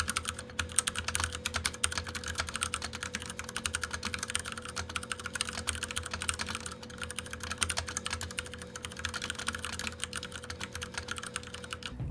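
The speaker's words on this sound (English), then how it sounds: "let's drop a sound test for you guys right about now" Mechanical keyboard typing on a Ducky One 2 RGB TKL with Cherry MX Brown switches: a dense, fast, steady run of key clacks that lasts the whole stretch, close and clear, with no one talking.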